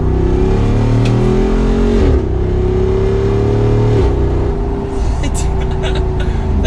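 A 2021 Jeep Wrangler Rubicon 392 accelerates hard after a downshift, its engine roaring loud and close with rising tone that dips at each gear change, while a voice talks over it.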